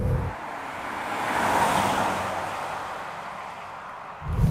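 A 2008 Citroen C6 accelerating with its gearbox and suspension in sport mode, a smooth, steady engine and road rumble swelling gently from inside the cabin, with no talking.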